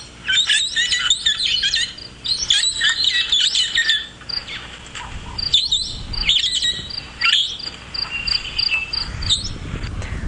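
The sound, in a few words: parrots calling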